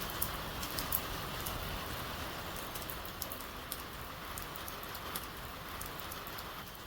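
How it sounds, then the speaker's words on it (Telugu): Heavy rain pours down steadily in a dense, even hiss of countless drops striking surfaces, with occasional sharper drip hits and no voices. "వర్షం అయితే బీభత్సంగా పడుతుంది."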